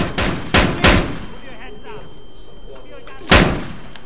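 Sharp gunshots in the tactical co-op shooter Zero Hour, three close, loud cracks in quick succession followed by a later fourth blast, with faint background sounds between them.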